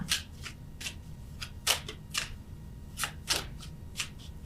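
Tarot cards are shuffled close by in quick, irregular riffling bursts with brief papery snaps between them, all fairly quiet.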